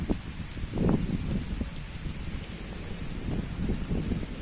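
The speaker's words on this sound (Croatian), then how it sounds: "Kiša pada." Steady rain falls outdoors in front of a gym in Pirot as a storm builds, making a constant broadband hiss with a few louder splashes near the start and no talking.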